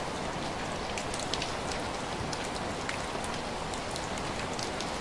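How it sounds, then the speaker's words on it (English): Steady, dense warm rain patters evenly on surfaces nearby in a jungle in Paraty, a continuous hiss of drops with no voices. "The rain feels warm."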